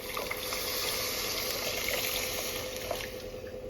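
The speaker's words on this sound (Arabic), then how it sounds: "وبحط عليها بقى الميه" Water poured from close by into a pot of rice, a steady splashing trickle lasting a few seconds, quiet, with no talking.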